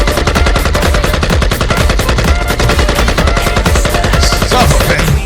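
Rapid, continuous gunfire from a rifle fired indoors, a loud, dense stream of sharp reports with no pauses, running steadily from start to finish without any voices.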